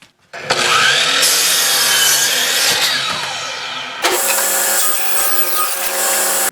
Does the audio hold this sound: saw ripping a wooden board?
yes